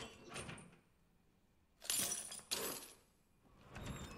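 Bolt cutters snap something open in a zombie video game: a couple of sharp, close metallic clanks with rattling, set against quiet background ambience, with no talking.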